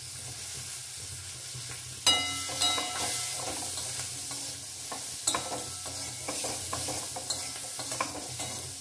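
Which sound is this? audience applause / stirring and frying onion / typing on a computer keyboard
stirring and frying onion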